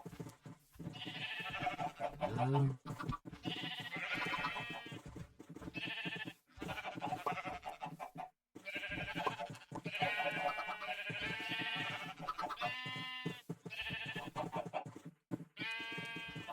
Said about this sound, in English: let's go get that last white sheep that walked away